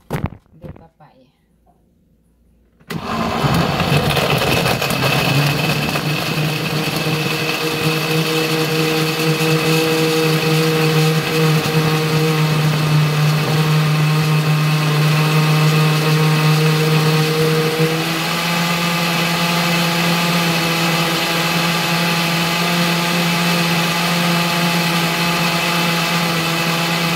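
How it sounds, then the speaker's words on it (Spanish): An electric blender whirs papaya with milk into a shake. After a few seconds of near quiet it starts up with a loud, steady roar that runs to the end, shifting pitch slightly partway through. "Y vamos a comenzar a licuar para sacar el licuado"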